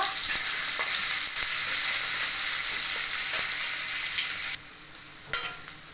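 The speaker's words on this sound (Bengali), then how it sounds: "দিয়ে দিলাম এখানে পেঁয়াজ কুচি। ভালো করে ভেজে নেব।" Chopped onion sizzles steadily in hot oil in a pan, a loud continuous frying hiss that drops suddenly near the end before a brief stir.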